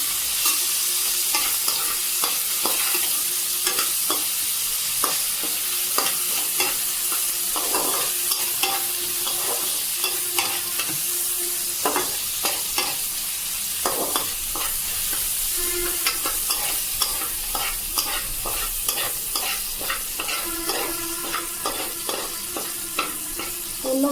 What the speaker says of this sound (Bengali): এটা আমি দিয়ে দিলাম ভাজতে এটা আমি ভেজে নেবো ভালো করে